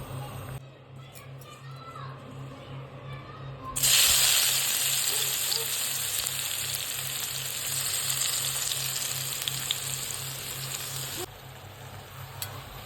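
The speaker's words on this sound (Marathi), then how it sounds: "कढईमध्ये आपण दोन चम्मच तेल घेतलेले आहे त्याच्यामध्ये आपल्याला आता लसूण आणि मिरची टाकायची आहे" Garlic and chillies dropped into hot oil in a kadai burst into a loud, steady sizzle that continues for several seconds before easing slightly, with a quieter start before they go in.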